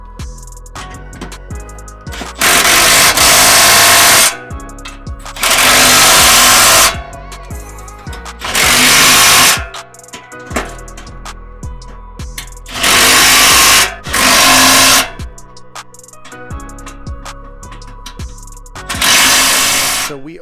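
A power tool tightens bolts on Go Rhino Dominator Xtreme D6 side steps on a Ford F150, in loud whirring bursts of a couple of seconds each, about six of them, separated by quieter clanks and pauses.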